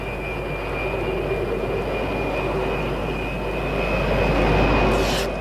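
Jet engines of an airliner spinning up during a start sequence, a steady loud roar with a thin high whine rising slightly toward the end, heard from inside the aircraft.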